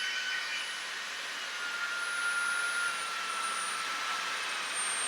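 A Shark Detect Empty & Clean IW4625 cordless vacuum runs with a steady, high-pitched motor whine and airy suction hiss, loud and close with no talking.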